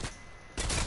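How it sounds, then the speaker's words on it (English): Rifle fire from a video game building match plays as a quick burst of sharp shots, loud and close, with a brief gap before another blast lands. "Why are you sniping?"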